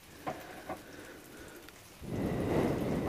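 Boiled whole potatoes seasoned with black pepper and salt hit a hot pan, bursting into a loud, steady crackling sizzle partway through after a few faint clinks, with no one talking.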